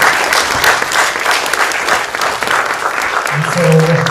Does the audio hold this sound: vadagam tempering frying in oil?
no